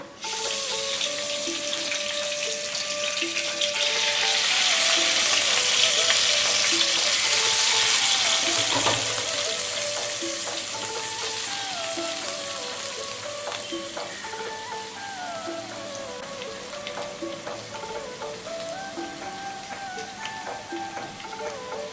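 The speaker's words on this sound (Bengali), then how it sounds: "এবারে ভেজানো চালটা জলটা ঝরিয়ে নিয়ে আমি এই ঘিয়ের মধ্যে দিয়ে দিচ্ছি" Drained, soaked Gobindobhog rice hits hot ghee in a pan for Bengali payesh, a loud rushing sizzle that swells over the first seconds then settles into steady frying, with no talk.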